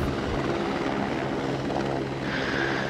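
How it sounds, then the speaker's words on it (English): Helicopter in the SOCOM Combined Assault video game: a steady, loud rotor drone with a continuous low thrum throughout, no speech over it. "Shoot the chopper."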